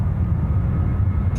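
Steady, loud low roar of an airplane engine at Sydney Airport during takeoff, a continuous rumbling drone with no break; no voices.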